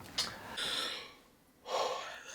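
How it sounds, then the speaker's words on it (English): A person yawns close by, with a breathy inhaling gasp, a drawn-out airy stretch, a short lull, then a strong exhaling sigh. "A yawn has been brewing."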